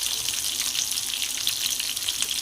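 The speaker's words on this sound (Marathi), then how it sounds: "एका कढईमध्ये तेल गरम करून त्यामध्ये जिरे, मोहरी, कोथिंबीर, कांदा घालून परतावे" Onion, cumin, mustard seeds and coriander sauté in hot oil in a kadai, producing a dense, bright, unbroken sizzle close up, with no voices.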